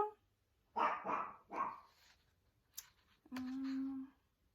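A dog gives a few quick barks, then a pause, then a longer whining, howl-like yelp; nearby and fairly clear with no talking.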